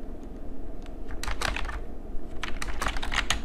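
A computer keyboard clatters with quick, irregular keystrokes in short runs as a tweet is typed, close up over a steady background hum, with no voices.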